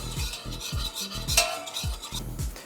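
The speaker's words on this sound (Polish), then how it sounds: "delikatnie gotujemy na małym ogniu, co jakiś czas mieszając, żeby nic nam się nie przypaliło" A spoon scrapes around a pot of broth simmering over low heat in steady, rhythmic strokes, close and clear, with no talking.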